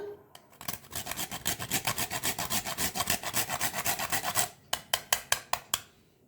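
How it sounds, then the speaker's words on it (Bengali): Whole nutmeg rubbed against a grater for a chicken tikka malai kebab, a close, steady train of dry rasping strokes that stops briefly, then returns as a few sharper, separated scrapes. "এই যে সামান্য জায়ফল ঘষে নিলাম"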